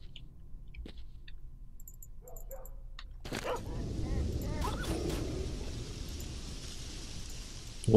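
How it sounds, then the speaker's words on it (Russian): Dogs bark and yip in the S.T.A.L.K.E.R. video game, a few faint yelps early, then a louder burst of barking and growling with a hissing ambient backdrop. "А что тут забыли собаки?"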